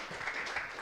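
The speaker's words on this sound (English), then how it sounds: "Let's also give a big round of applause to Joe and Waypoint Coffee for making all of our drinks." Brief, fairly faint applause from an event audience thanking coffee makers, a soft wash of clapping heard from a distance.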